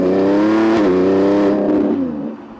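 A Lamborghini Revuelto accelerating hard, its engine rising in a loud, close, smooth roar with a brief shift dip partway, then easing off as the sound fades.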